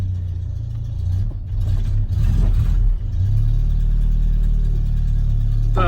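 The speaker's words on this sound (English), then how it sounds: "Apart from it running a little bit rough there, it sounds like a pretty good engine." Race truck engine started after choke use, idling with a rough, uneven note and a few revs in the middle, loud and close with no talk.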